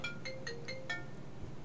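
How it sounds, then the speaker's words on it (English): A phone ringtone plays an incoming-call pattern of five short bright electronic chirps in a quick even rhythm, moderately close over a low room hum, with no talking. "I've got a phone call coming. Go away. Ah, come on. Sorry, phone call's ringing."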